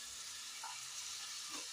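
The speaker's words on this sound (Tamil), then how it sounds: "எல்லாம் சேர்ந்து நல்லா வதக்கிக்கலாம்." Mutton curry with chili powder and tomatoes sautés in a pan, giving a steady, even sizzle and hiss throughout, fairly quiet, with a couple of soft stirring touches and no voices.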